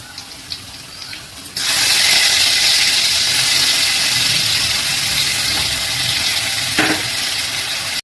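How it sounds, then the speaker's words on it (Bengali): Dry fish dropped into hot oil in a home kitchen, bursting into a loud, steady sizzle that starts abruptly and continues close by, with a faint clink partway through. "তারপর এই তেলের মধ্যে আমি এই ড্রাই ফিশটা দিয়ে দেবো"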